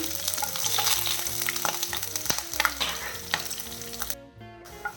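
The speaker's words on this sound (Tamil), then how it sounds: "பூண்டும் இந்த பச்சை மிளகாவும் சேர்க்கலாம் ஒரு நிமிஷம் இதை வதக்கிடலாம்" Garlic and green chillies sautéing in a pan for a ridge gourd and egg dish, a loud close sizzle with stirring scrapes and clicks that cuts off abruptly near the end.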